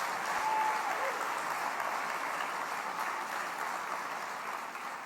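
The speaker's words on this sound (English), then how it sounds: "I think he deserves another round of applause" Sustained applause from an audience at a 2019 South African investment conference, a dense, even roar of many hands clapping that holds steady and loud for several seconds before easing slightly.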